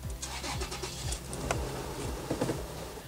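A 4-litre Toyota Land Cruiser Prado pulls away, its engine rising through low, rough revs with rising pitch sweeps, heard close and steady throughout.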